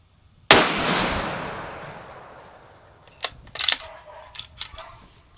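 A single rifle shot fires while bore sighting a newly mounted scope at 25 yards: one sharp, loud crack with a long fading ring, followed by a few small clicks and knocks.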